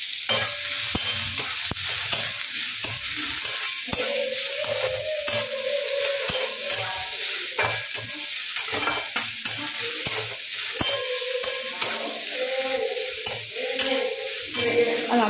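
Chopped onions hit a pan of crushed garlic and fry with a steady close sizzle, while a spoon stirs and scrapes through them in repeated strokes.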